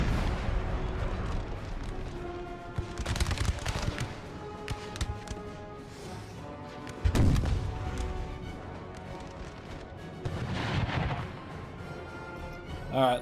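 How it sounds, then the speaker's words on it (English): Howitzers firing in an American Civil War battle game, heavy booming artillery reports recurring every few seconds over a continuous rumbling battlefield din and a musical backdrop, with no talking. "looks like the South decided to unlumber the howitzers. They're firing again."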